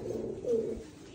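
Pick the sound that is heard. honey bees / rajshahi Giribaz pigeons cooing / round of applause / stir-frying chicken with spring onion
rajshahi Giribaz pigeons cooing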